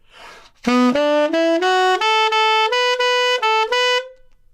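A tenor saxophone plays a quick ascending run of about ten distinct notes, each clearly tongued, ending on a sustained higher tone.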